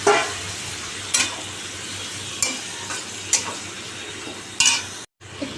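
Jackfruit curry sizzles in a pan after hot water goes in, with a spatula scraping and clinking against the metal every second or so over a continuous frying hiss, then a brief break near the end.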